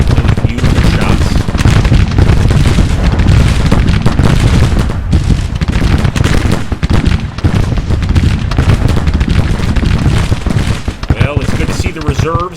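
Dense artillery and rifle fire in a Civil War battle video game set at Bentonville, with a continuous barrage of booms and crackling volleys, loud and close, while a voice talks over it.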